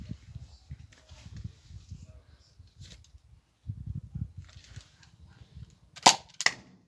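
An X-Shot Kickback Ultra toy blaster fires two sharp, loud cracks close together near the end, after soft shuffling and handling noises.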